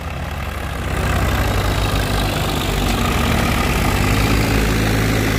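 A Swaraj 855 tractor engine idles with a steady, dense low rumble, loud and close, continuing evenly without pause and with no voices over it.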